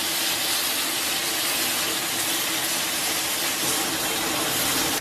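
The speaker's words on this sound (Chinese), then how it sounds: "咱们给锅里边来点这个煮肉的原汤" Beef cooking broth is poured from a container into a pot of stir-fried diced shiitake mushrooms, giving a continuous close, rushing gush of liquid with no pauses.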